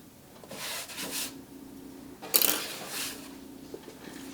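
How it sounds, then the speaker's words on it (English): Scissors snipping fabric at the seams of a curvy sewn bag, with a few short crisp cuts spread over a few seconds and one sharper snip in the middle, close up. "Just kind of pull it out and just give it a little snip."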